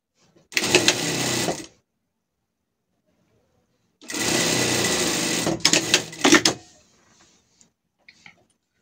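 Sewing machine stitching the side seam of a surgical gown in two bursts, a short first run and a longer second one ending in a few rapid ticks, then quiet with faint handling sounds.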